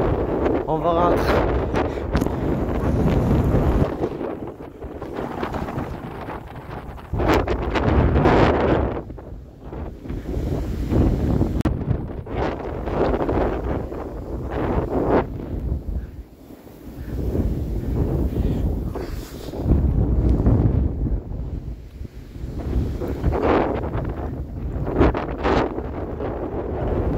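Powerful winter storm gusts of around 70 km/h batter the microphone in loud, surging waves of roaring wind, easing briefly between gusts, with a person talking at times under the noise.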